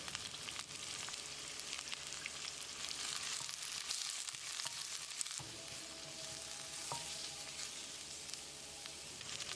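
Sliced onions, cloves, fennel seeds and curry leaves fry in a pan, giving a steady, close crackling sizzle. Occasional stirring scrapes break through, and no one speaks.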